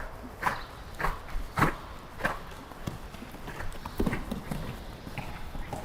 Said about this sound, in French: Laisse ton cheval galoper.